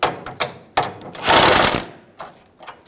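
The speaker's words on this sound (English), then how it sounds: "Using a 15mm socket, we're going to loosen the back bolt" A 15mm socket loosens the back bolt on the rear bumper of a 2005-2015 Toyota Tacoma. Short, close mechanical rattling bursts come in quick succession, with one longer harsh whirring stretch in the middle.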